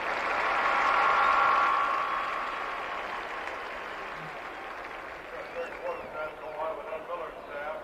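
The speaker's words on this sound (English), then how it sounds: "let's send these youngsters to the division competition with a good round of applause" Stadium crowd applause at an NFL Vikings at Rams game, a broad roar of clapping that swells early then slowly fades as an announcer's voice comes in over the tail.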